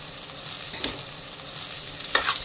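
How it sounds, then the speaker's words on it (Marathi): Salted mashed potatoes for vada pav being mixed in a pan off the heat, a soft sizzle with two scraping stirs. "हे आता आपण चांगलं मिक्स करून घ्यायचं आहे।"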